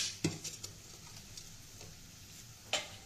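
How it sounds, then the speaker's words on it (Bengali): Potatoes tipped into a pot for a Bengali tangra fish curry, two sharp clattering knocks about two seconds apart with a few lighter taps between, fairly quiet and with no talking. "প্রথমে আলুগুলো দিয়ে দিলাম।"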